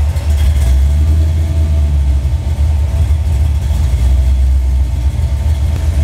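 A Porsche 944 with a swapped 07K five-cylinder turbo engine idles loudly and steadily up close, its choppy cam giving a lumpy, uneven low rumble throughout.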